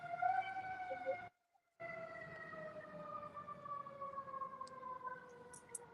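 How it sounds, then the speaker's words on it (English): A fire truck's wailing siren, faint and somewhat distant, holding a slowly falling tone with a brief dropout near the start. "I know what siren that was. That was a fire truck."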